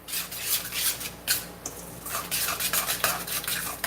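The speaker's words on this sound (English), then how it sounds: "just going to give this a good stir." Taco seasoning being stirred in a pot while making black bean quesadillas, with a spoon scraping and clinking against the pot in close, repeated strokes and no talking.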